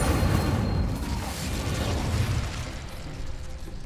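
A fire spell cast in Hogwarts Legacy roars as a loud, dense, continuous whoosh and rumble of flame with crackling bursts, sustained for several seconds without a break and heard alone with no voices.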